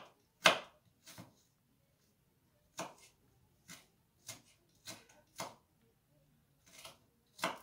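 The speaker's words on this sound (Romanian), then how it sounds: "Acum tăiem ceapa." A knife chops onion on a board for chicken wing and potato paprikash, with about ten sharp, separate cuts at uneven intervals, close and clear against a quiet room.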